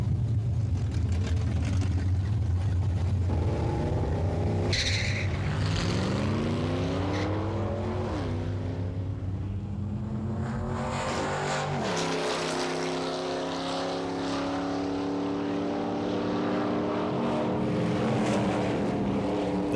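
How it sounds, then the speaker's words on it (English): Muscle cars drag racing, a red Ford Fairlane against a Mustang 302: loud, continuous V8 engine roar with rising and falling harmonics through gear changes, close and then sweeping past, with no talk. "Dave drives a Mustang 302."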